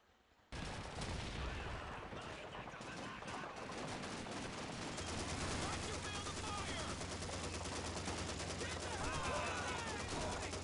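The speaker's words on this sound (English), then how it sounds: "Why are the people shooting me from behind?" Rapid, dense video-game gunfire fills the whole stretch after a sudden start, sustained and loud, with a low steady rumble joining partway through.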